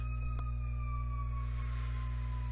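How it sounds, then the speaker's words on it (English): An ambulance siren wails steadily in the distance, its pitch slowly sliding downward as it passes, heard over a constant low hum with no talk. "just kind of let that ambulance go by"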